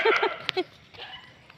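A dog gives a few short, close yips and barks in quick succession, the calls fading into a quiet room background.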